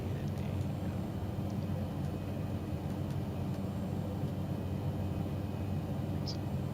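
A small airplane on final approach fills the cabin with a steady, even engine drone and airflow roar on a flight toward Kgalagadi Transfrontier Park, unchanging throughout with no voices.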